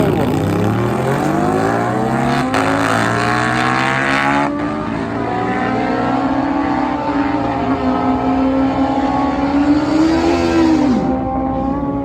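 A Suzuki Hayabusa drag bike races a V-twin motorcycle at a large Australian drag racing event, the engines screaming loudly and rising in pitch through the gears before dropping off near the end.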